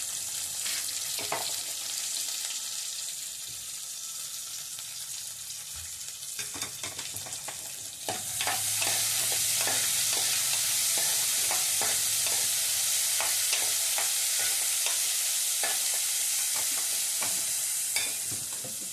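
Green chillies and tomato frying in a pan make a continuous close sizzle that grows louder and brighter partway through, with frequent scraping and tapping of a spatula stirring throughout.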